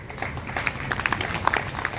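Scattered clapping from an audience at a poetry recital by a former police officer, a thin patter of individual claps rising and falling briefly rather than a full ovation.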